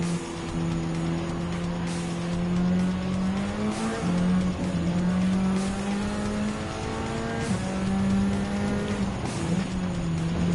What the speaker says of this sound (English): approaching on 4th and 5th place, T Yamanaka and Kei Kawakami on the Toyota GR Supra GT4 and Lexus RCF Group 4